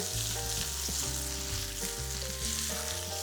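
Scallops sear in bacon fat, a steady frying hiss with soft clicks as they are turned, under a looping tonal musical backdrop.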